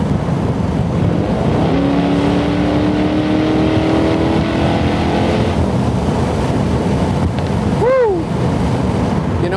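Revology 1966 Mustang convertible cruising at highway speed, a loud continuous roar of engine, road and wind noise with rushing air buffeting the microphone throughout.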